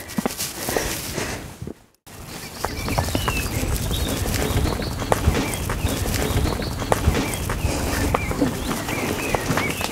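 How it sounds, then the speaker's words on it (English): A donkey pulls a carriage, its hooves clip-clopping in a steady, fairly close rhythm through most of the stretch, with birds chirping in the background and a brief silent gap early on. "You like a bit of carriage driving, don't you, Binks?"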